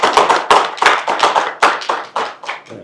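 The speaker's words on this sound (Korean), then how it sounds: "박수로 환영합니다" An audience at a candidates' joint debate forum in Gwangju claps to welcome a candidate, with about a dozen distinct, rhythmic claps at a steady pace, close and fairly loud, with no talk over them.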